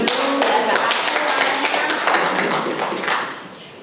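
A class claps its hands together in a dense, continuous burst of applause lasting several seconds, close and fairly loud, fading slightly at the end.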